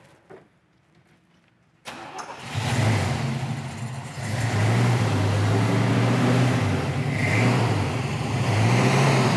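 A 1981 Chevrolet Camaro Z/28 V8 cranks briefly after a quiet moment, then catches and settles into a loud, lumpy idle with a few rises in revs, heard up close.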